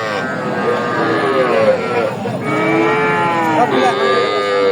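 Cattle moo loudly and repeatedly at close range at a livestock market selling Sahiwal bulls and heifer calves, long drawn-out lowing calls overlapping one another with a steady murmur behind.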